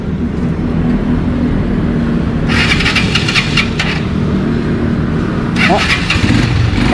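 A motorcycle engine turns over and runs with a low, rough rumble, punctuated by two bursts of sharp starter-like noise, with a voice faintly under it.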